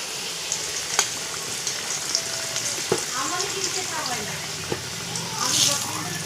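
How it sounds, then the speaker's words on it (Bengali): Whole spices, bay leaf, dried red chillies, cumin, cardamom and cinnamon, crackle and sizzle in hot oil in a close, steady fry with a few sharp pops, while a voice talks over it. "এই তেলেই আমি ফোড়ন দিচ্ছি।"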